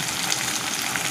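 Chopped tomatoes hit a pan of frying garlic, onion and ginger for paneer bhurji, giving a steady, close, continuous sizzle with a broad hiss and no talking.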